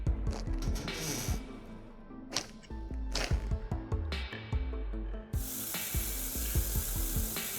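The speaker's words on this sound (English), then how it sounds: "Grab the oil spray." Gun-cleaning oil spray in the VR game Into the Radius: quick clicks and handling knocks come first, then a loud, continuous hissing spray runs steadily through the final seconds.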